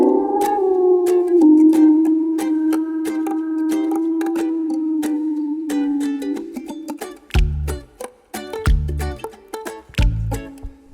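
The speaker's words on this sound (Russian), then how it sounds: "Волк." A forest wolf gives one long, sustained howl that holds steady for about six seconds amid sharp clicks, followed by several heavy low thuds.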